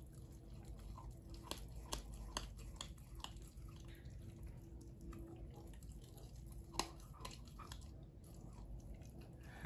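A two-month-old Canary dog puppy crunches and chews meat with its teeth, close and steady, with repeated sharp bites and wet squishy chewing over a quiet indoor background.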